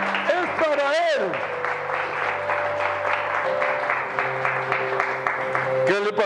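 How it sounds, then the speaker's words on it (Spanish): A church congregation at a pastoral gathering applauds loudly and steadily, the clapping running under a sustained organ or keyboard chord, with a voice calling out briefly at the start. "El aplauso fuerte"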